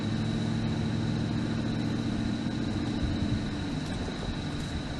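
A steady low engine drone fills the cabin of a Chrysler 300C under acceleration, a continuous rumble with a faint high whine above, heard from inside the car with no talking.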